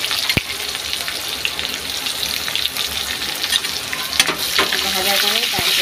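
Onion hitting hot oil in a wok after a spice tempering, giving a steady, fairly loud sizzle throughout with a few sharp clinks and scrapes of stirring.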